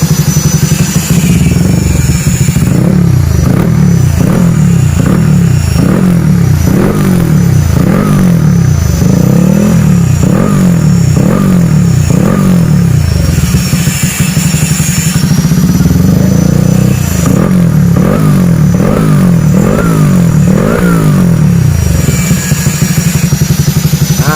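A Honda C70 motorcycle engine, carburetor converted to fuel injection with a racing ECU, revs repeatedly in rising and falling bursts, loud and close, settling briefly before revving again.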